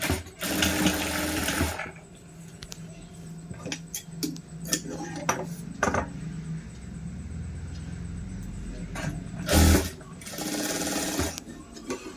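A sewing machine stitches a plain blouse with steady bursts of fast rhythmic clatter. Quieter pauses and handling clicks come between the runs, and a brief louder knock lands near the end.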